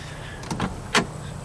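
The door of a 1961 Oldsmobile Starfire convertible in garnet opens with a couple of quick mechanical clicks and a sharper latch clunk, close and fairly loud against a quiet background.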